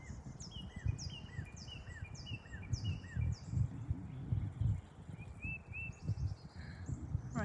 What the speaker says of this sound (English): If you can hear the birds around me.